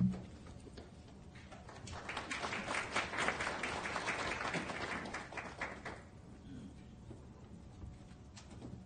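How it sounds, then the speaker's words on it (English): A subdued early-morning round of audience applause at an investment conference in New York: soft, fairly distant clapping that swells slightly midway and tapers off, with no talking over it. "That was a very early morning set of applause. So it was very subdued"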